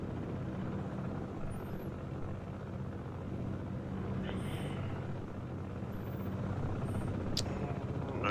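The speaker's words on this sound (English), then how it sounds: "Got helicopters coming in with the troops to hold it." Steady, loud rotor rumble of helicopters bringing in troops in the game Broken Arrow, droning continuously, with faint high chirps and a sharp click near the end.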